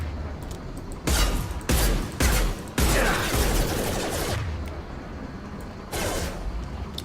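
Gunfire from the video game Mass Effect 2 comes in several loud, separate bursts with short gaps between them, then tails off before a final volley. No one speaks.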